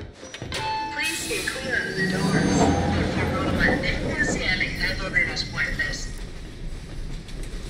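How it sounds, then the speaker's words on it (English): Train ride in the video game Bendy and the Dark Revival, heard as a steady rumbling rail journey with rattling and clatter throughout, moderately loud, with a brief bell-like tone and some voice-like sounds mixed in. "Won't take but a moment if you go by train."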